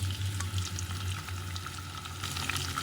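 Onion fries in a preheated pot with oil over medium heat, a continuous close sizzle with light crackling and a low steady hum underneath.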